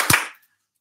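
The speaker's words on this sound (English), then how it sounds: "So two claps for Mrs." A school audience gives a quick burst of clapping, a short loud smack of overlapping claps that fades within a fraction of a second into silence.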